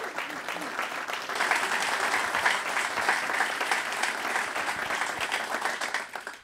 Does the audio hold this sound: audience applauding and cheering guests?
yes